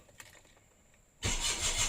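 A Proton Kenari car engine with a weak battery cranks and catches, quiet clicks giving way to a sudden loud start that settles into a steady close idle.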